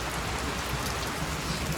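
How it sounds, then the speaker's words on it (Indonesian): Steady rain falls on a mountain hiking trail on Mount Slamet, a dense even hiss with no pauses, close and moderately loud, and no voices. "ditambah hujan nih"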